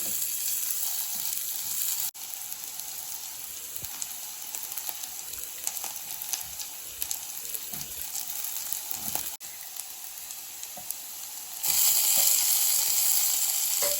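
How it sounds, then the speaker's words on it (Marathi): Curry leaves hitting hot oil with onion and a little turmeric and salt for a healthy weight-loss breakfast dish, giving a steady, close sizzle that briefly dips and then grows louder near the end. "आता हे व्यवस्थित परतलं की याच्यामध्ये टाकायचा कढीपत्ता"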